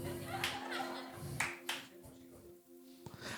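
Scattered hand claps ring out in a small gathering, a few sharp isolated claps spaced irregularly over a low steady hum, with faint murmuring voices in between.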